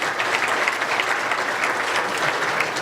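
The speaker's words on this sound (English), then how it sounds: "please applaud." A crowd applauds steadily for a few seconds at a quiz-style vote during a show, with dense, even clapping throughout and no voice over it.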